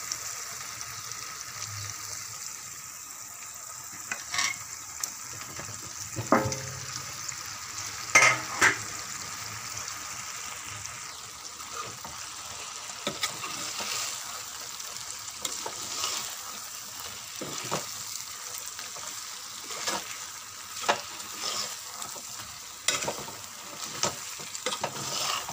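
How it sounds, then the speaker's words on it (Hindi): Potato and soybean pieces frying in spices in a pan, a steady quiet sizzle with intermittent scraping stirs and clinks of the spoon, no talking. "तो इसे अब डालती हूँ मसाले के अंदर।"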